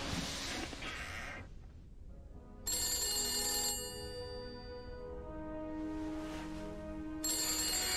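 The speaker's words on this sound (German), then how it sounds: "Ja, das Telefon klingelt." An old 1970s-style telephone rings inside a house in the horror game The Beast Inside, with two loud bursts of bright ringing separated by a fading resonant tail and quieter gaps.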